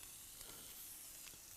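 Leg of lamb browning in a hot pan gives a steady, dense sizzle that runs unbroken at an even level throughout, with no talking over it.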